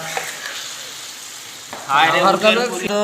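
Chunks of camel hump sizzle and are stirred in a pot, starting as a quiet hiss and jumping to a loud, busy sizzle with stirring scrapes partway through.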